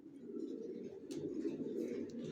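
Grizzle racer pigeons, big-sized original racer babies, coo in a low steady murmur that runs throughout, fairly close, with faint higher bird chirps above it and no talking.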